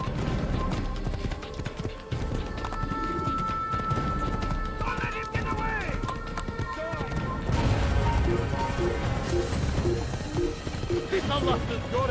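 Rapid hoofbeats of a galloping horse in Assassin's Creed thud steadily under background music, with a horse whinny and a voice speaking partway through.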